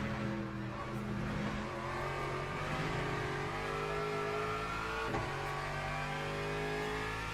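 A steady race car engine drone in a racing video game at Imola, with a constant pitch and no voices, heard from inside the car.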